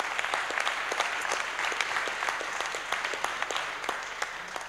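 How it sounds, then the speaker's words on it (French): A press conference audience breaks into sustained applause, a dense rattle of many hands with sharp individual claps standing out, steady and even across the whole stretch. "je vous applaudis et on vous applaudit tous pour ça"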